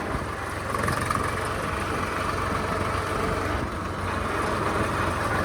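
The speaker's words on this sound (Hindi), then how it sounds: "ऐसे कोई ट्रैक्टर आ रहा है सामने से" An old Swaraj 855 tractor approaching on a farm road, a steady low diesel rumble with a broad noisy hum, moderately distant and fairly even in loudness, no voices.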